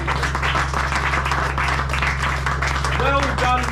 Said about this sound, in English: Right, give yourselves a round of applause.